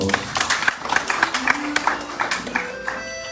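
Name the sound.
audience applause for singers and musicians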